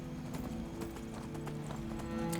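Horse hooves clip-clop in the video game Skyrim, a steady, even gait of close hoofbeats repeating over a continuous low droning hum of music and ambience.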